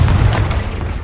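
Confringo explosive spell blasting in the video game Hogwarts Legacy, a single loud, deep booming burst that rumbles on briefly, with no talk.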